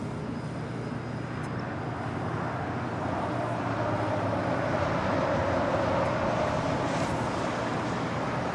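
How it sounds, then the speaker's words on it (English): Japan Airlines Boeing 777-300ER arriving at Los Angeles International Airport from Tokyo Haneda, a broad steady jet roar at moderate distance that builds gradually and holds throughout, with no talk. "That is Japan Airlines Flight 16 coming in from Tokyo Haneda at 777-300ER heading to the gates of Tom Bradley on the southeast corner"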